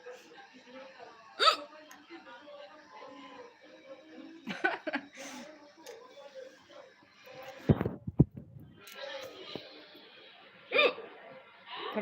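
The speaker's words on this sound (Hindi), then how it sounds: "हिचकी आ गया।" Several sharp, close hiccups from a person after eating hot chili, spaced irregularly across the stretch with soft chuckling and murmured sounds between them.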